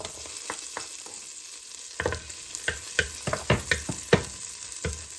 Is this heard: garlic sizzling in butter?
yes